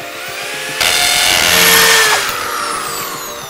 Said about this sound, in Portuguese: Agora é hora de furar.